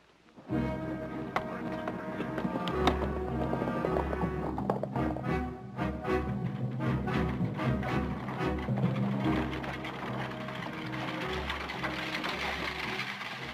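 Horse hooves clip-clop in a steady rhythmic beat, moderately close, running continuously for several seconds under a music-like background in a western TV drama scene, with no talk.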